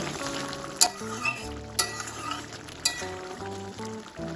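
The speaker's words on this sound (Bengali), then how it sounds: "হালকা একটু নেড়ে দেব" Drumstick and shrimp curry gently stirred in a pan, a low simmering bubble under a few sharp metallic clinks of the spoon against the pan, close by, no talking.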